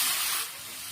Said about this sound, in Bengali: এর সাথে অল্প জল অ্যাড করে নেব যাতে ভাজাটা সুন্দর হয়।